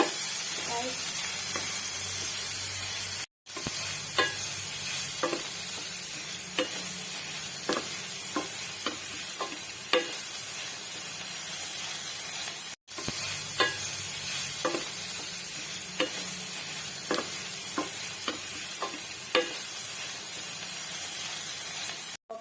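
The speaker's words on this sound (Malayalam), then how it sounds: "ഇട്ട് വഴറ്റണം. ഇനി ഇതൊന്നും നല്ലോണം ഇളക്കിയെടുക്കണം." Curry ingredients, tomato and garlic, sautéing in a hot pan, a continuous loud sizzle with repeated scraping and clinking stirs throughout, broken by two brief cuts of silence, with no one speaking.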